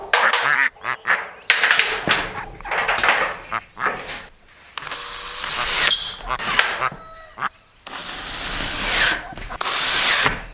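Ducks and their small ducklings quack and call in a shaded outdoor pen, the calls coming in choppy, overlapping bursts from close by amid rustling and scattered background sound.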